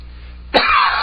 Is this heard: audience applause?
no